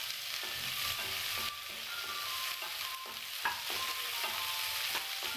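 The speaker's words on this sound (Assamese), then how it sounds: "পিঁয়াজখিনি অলপ সময় আমি ভাজি থাকিম।" Sliced onions sizzle in hot oil with panch phoron, a close, steady crackle broken by repeated scraping stirs of a spoon in the pan, with no voices.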